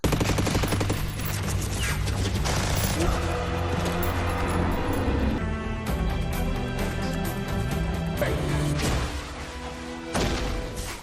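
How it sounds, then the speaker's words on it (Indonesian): Film gunfight with a fusillade of gunfire, bursts of automatic weapon shots and impacts loud and dense throughout, mixed with a thick dramatic score and crashing effects. "terjadilah baku tembak"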